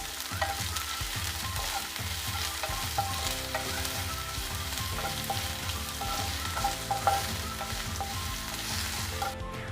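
Chopped onion sizzles and fries steadily in a pan as an egg fry is prepared, with continuous frying hiss and repeated soft stirring scrapes throughout, close and fairly loud, with no talking.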